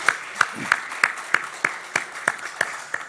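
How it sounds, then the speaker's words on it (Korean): A church congregation at a Thanksgiving Sunday service claps for the choir in a slow, evenly spaced rhythm of about ten sharp claps, moderately loud and fairly close, with no talk over it. "우리 성가대 너무 수고하셨는데 박수 한 번 더 부탁드리겠습니다."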